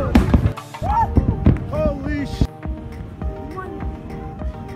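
A massive volcanic eruption near Tonga, heard from an island about 65 km from the blast, arrives as a series of dull booms and sharp cracks spread across the clip, mixed with people's voices talking and exclaiming nearby.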